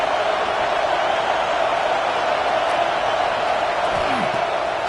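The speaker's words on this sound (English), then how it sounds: "Decibels rising as the crowd gets behind this defense on third down." Football stadium crowd roaring as fans rally behind the defense on third down, a dense, steady wall of cheering and noise that holds loud throughout with no letup.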